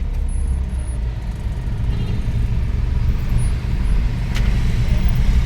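Dense road traffic near Marikina City rumbles as a steady low drone of cars, buses and trucks close by, with a brief hiss like an air brake partway through.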